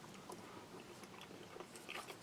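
Chewing a mouthful of tender canned beef and beans with carrots from a Latvian army field ration, soft and close, a steady mushy mastication with faint wet crunches over a low background hiss.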